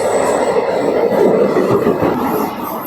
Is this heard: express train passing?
yes